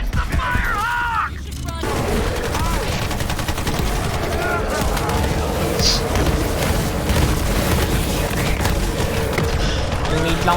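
Dense chaotic Borderlands 3 combat with repeated booming grenade explosions mixed into rapid gunfire and game effects, loud and continuous, with a voice talking over the battle.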